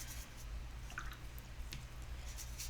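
A wet paintbrush mixes three paint colors on paper, making faint, soft squishing and dabbing sounds in a quiet room.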